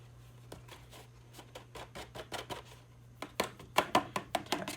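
Embossing powder being knocked off a stamped card: a run of sharp, fairly close taps that start light and grow louder and denser toward the end, over a steady low hum.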